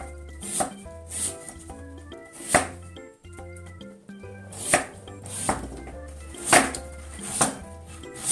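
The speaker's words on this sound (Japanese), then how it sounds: "これはちょっと大きいので4分の1に切って薄切りしたいと思います" A knife thinly slices a turnip on a cutting board in a steady rhythm of crisp, close chops, each stroke landing with a distinct knock on the board.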